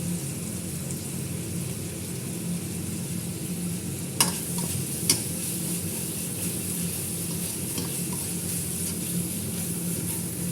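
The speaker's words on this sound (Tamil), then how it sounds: "கொஞ்சம் புதினா கொஞ்சம் கருவேப்பிலை இதெல்லாம் போட்டு நம்ம வதக்கி வைக்கிறோம்" Mint and curry leaves sauté in a pan with ginger-garlic paste for an egg gravy, a quiet steady sizzle with a couple of sharp spoon clinks against the pan near the middle.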